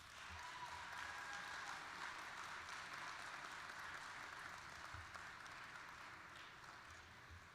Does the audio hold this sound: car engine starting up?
no